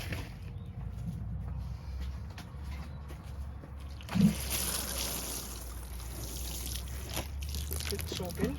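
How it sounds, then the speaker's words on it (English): Water poured from a watering can onto carrots growing in root trainers, a steady soft trickle and splash with one louder thump partway through. "Okay, bit of water now."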